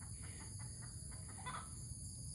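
A chicken clucks in short bursts outdoors, fairly close, over a steady high-pitched background hum, with no talking.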